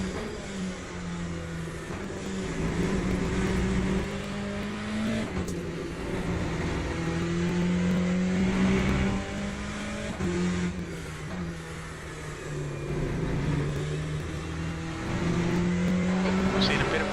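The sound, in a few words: race car engines in the video game Le Mans Ultimate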